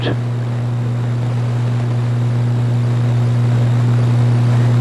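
Race cars at Seekonk Speedway in a Sport 4 event, engines droning loud and steady as they run side by side into a turn, a sustained low hum with no talking.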